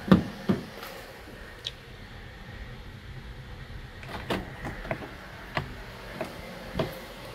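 Door locks release on a Honda New Civic 1.8 with oil mixed into its coolant: a couple of sharp clunks near the start, then scattered faint clicks over a steady low background hiss, with no talking.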